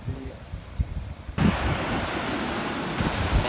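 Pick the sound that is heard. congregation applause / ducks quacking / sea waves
sea waves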